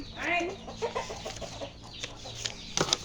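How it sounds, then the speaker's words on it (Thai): Chickens cluck in short, uneven bursts close by outdoors, with a few sharper squawks near the end over a low background rumble. "ไก่ครับ ไก่"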